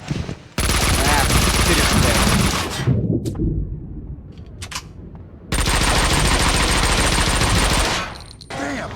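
Sustained Uzi machine-gun fire in the shooter game Max Payne 2 roars loud and close in two long continuous bursts, separated by a quieter gap with a few scattered shots and clatter.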